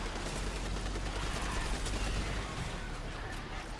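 Breakneck auto rifle in Destiny 2 fires in a dense, sustained burst of rapid gunshots against enemy thrall, loud and unbroken for the full stretch.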